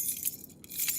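A set of house keys jangles and clinks in a brief, bright metallic rattle, faint and close, lasting about a second with no voices.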